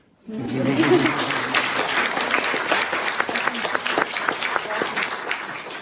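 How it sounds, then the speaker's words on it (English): A hall audience at a Buddhist Global Relief event in Berkeley breaks into clapping, starting abruptly and continuing as a dense, sustained patter of many hands with individual claps standing out near the end. "Yes, you can clap."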